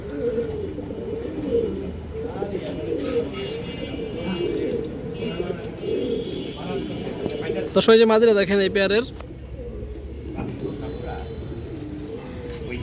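Zero-neck patterned pigeons coo in soft murmurs beneath constant close talking by a man, with one louder burst of calls partway through.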